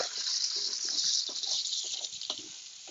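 A medium yellow onion and four garlic cloves sauté in a generous pool of oil, a steady close hiss and sizzle with faint irregular pops and crackles throughout.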